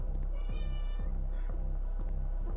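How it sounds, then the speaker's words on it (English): A cat gives a single drawn-out, tonal meow near the middle, set against a steady low hum and a regular ticking pulse in the background. "Meow!"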